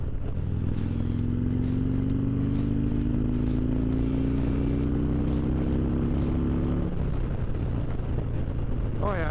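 A Harley-Davidson Road Glide motorcycle engine drones loudly while riding, its pitch climbing steadily as it accelerates, then easing off, with a rider's voice briefly heard near the end.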